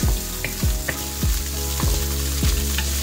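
Pork Bicol Express frying in a pan, a loud continuous sizzle broken by repeated rhythmic scraping strokes of a spatula about every half second, very close.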